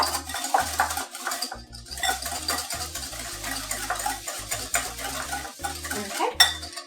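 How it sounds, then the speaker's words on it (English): Oil and sugar whisked by hand in a bowl, a quick run of close metallic scraping and clinking strokes with short pauses, busy and uneven, with no voices. "Whisk. Just until the oil and the sugar incorporate."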